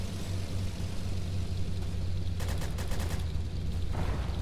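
Rapid bursts of gunfire rattle in a tight cluster over a constant low engine drone, with shotgun blasts from the Roblox game Airship Assault set in a World War One aerial battle.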